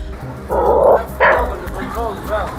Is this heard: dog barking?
yes